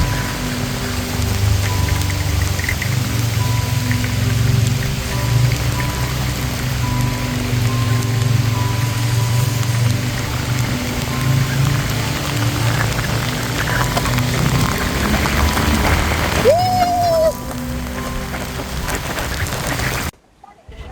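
Heavy rain pours down on Jenukallu Gudda hillside near Yellapur, a loud continuous wash of drops with a low rumbling undertone, easing slightly before stopping abruptly at the end.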